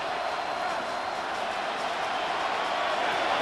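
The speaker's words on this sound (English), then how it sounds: "this crowd is making an impact right now" Stadium crowd noise from a Madden 26 simulation of Seahawks vs Jaguars, a steady loud roar that holds level throughout with little variation.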